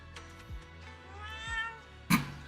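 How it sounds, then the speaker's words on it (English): A chubby orange cat in the Zenless Zone Zero video game gives a short meow, followed by a louder, sharper call near the end, heard over a soft background music bed with no talking. "It looks over, meows triumphantly, and it struts right past our feet."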